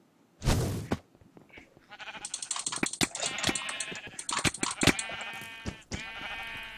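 Sheep bleat repeatedly in a Minecraft mini-game, a burst of short nasal cries after a loud thump, then a steady run of overlapping bleats, close and fairly loud, with no talking.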